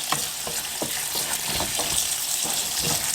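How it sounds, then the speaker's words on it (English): Cold tap water running over cooked macaroni in a sink, a steady close rush with scattered clattering and stirring sounds throughout. "Let's rinse this off with cold water."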